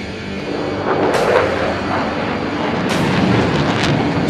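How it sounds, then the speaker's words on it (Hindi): A Solo Turk jet flying a loop at the Pakistan Day parade air show: a loud, broad, continuous jet roar that swells and rumbles throughout. "सोलो तुर्क इस वक्त आपके सामने लूप का मुजाहिरा पेश कर रहा है"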